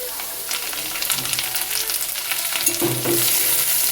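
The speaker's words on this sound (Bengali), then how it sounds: "মটরশুঁটি আর আলু একসাথে ভেজে নিচ্ছি" Peas and diced potatoes fry together in oil in a pan, a loud crackling sizzle broken by scraping stirs that grow busier toward the end, with no voices.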